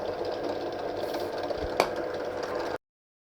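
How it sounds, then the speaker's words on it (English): Drill boring an 8mm hole through old steel flat bar, a steady close whirring drone with one brief knock near the end before it cuts off. "I'm going to pop an 8mm hole through this old flat bar"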